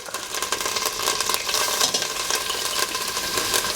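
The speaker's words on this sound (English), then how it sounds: "this does splatter quite a bit, but you need this high heat to give out the aroma" Garlic sizzling and spattering in very hot oil while cooking a fish curry. A loud, dense crackle with sharp popping bursts continues without a break, close up and with no speech.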